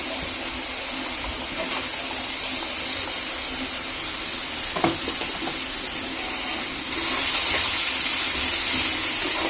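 Spice paste frying in a pan for a Bengali mola fish dish, a steady broadband sizzle throughout, with a brief clatter near the middle and the frying growing louder toward the end; no one speaks.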